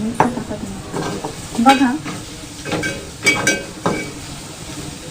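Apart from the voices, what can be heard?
root vegetables added to a pan and stirred while frying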